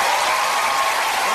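Dense, continuous applause from a television studio audience, loud and even throughout the short stretch with no break or talk.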